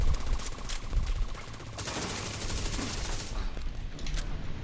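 Video game gunfire in a Brooklyn battle, dense rapid automatic bursts crackling close and loud, breaking off and then resuming as a long continuous fusillade without talk.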